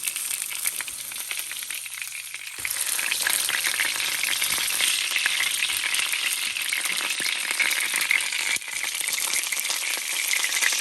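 Pork chop sizzling steadily in a hot pan while it crisps, a dense continuous frying hiss that swells louder after a few seconds and carries on without talk.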